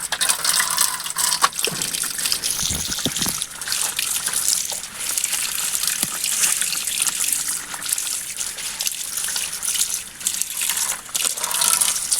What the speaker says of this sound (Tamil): நம்ம கொய்யா இலையெல்லாம் அலசிக்கலாம்